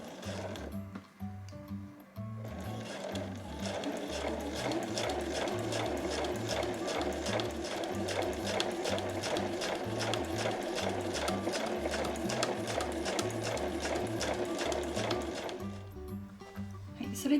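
A sewing machine runs steadily for about fourteen seconds, stitching fabric for a small frilled drawstring pouch, with a fast even mechanical clatter starting and stopping cleanly.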